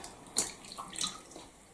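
Freshly picked currants being poured a little at a time into water and rinsed, with soft splashes and light trickling that come close and fairly quiet, with no speech.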